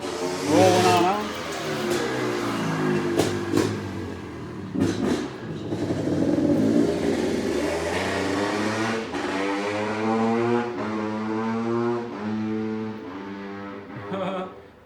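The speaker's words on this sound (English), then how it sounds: "Somebody else is just cruising around on a CRF" A Honda CRF dirt bike cruising through a residential neighborhood, its engine droning with steady harmonic revs that shift in pitch as it passes, fairly loud and continuous throughout.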